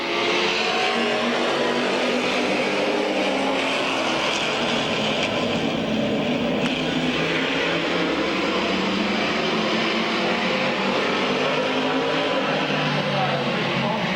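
A pack of Detroit Iron Heat race cars roars around the Midvale Speedway oval in 2001, a loud continuous blend of revving engines that swells and recedes as the field passes.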